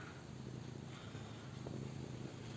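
A cat purrs softly and continuously while being stroked, a faint low rumble steady throughout with light background hiss.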